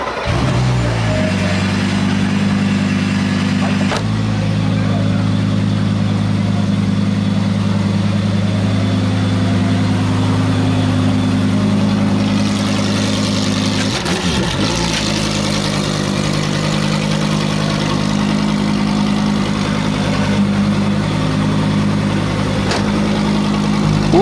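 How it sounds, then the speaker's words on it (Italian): A Lamborghini Huracán GT3 race car idles loudly and steadily at the Valencia racetrack, a deep continuous engine rumble with a couple of brief throttle blips, close and dominant throughout. "Scendiamo in pista con la Huracan GT3"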